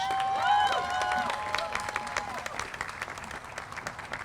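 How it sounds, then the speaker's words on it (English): Crowd applause for a Pride Committee at an outdoor Pride flag raising in North Haven, steady clapping that gradually thins out, with a whistle or cheer near the start. "Let's give them a round of applause."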